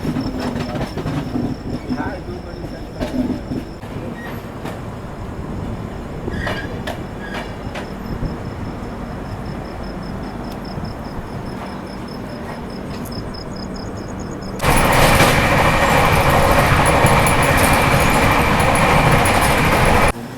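Capital Express passenger train, No 13248 Rajendra Nagar–Kamakhya, rolling along the line toward Bakhtiyarpur Junction; a steady continuous rumble of wheels and carriages, with a sharp jump to louder, brighter roar near the end, likely passing close to other equipment or a structure.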